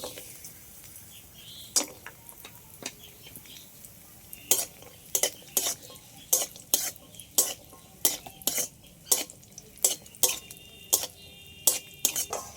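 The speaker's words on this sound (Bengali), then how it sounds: "এই 2 বাটিতে করে কাজু আর কিশমিশ নিয়েছি, এগুলো একই সাথে ভেজে নেব" Cashews and raisins fry together in a pan, a quiet low sizzle under a run of sharp, regular scrapes and clinks as a spoon stirs against the metal.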